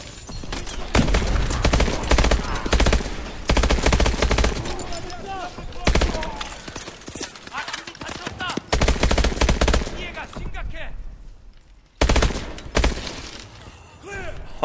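Sustained automatic weapon fire in the Call of Duty Advanced Warfare video game, loud bursts rattling almost continuously before breaking off into short pauses, while a player talks excitedly throughout.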